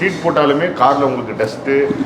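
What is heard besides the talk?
None of the usual background noises is heard.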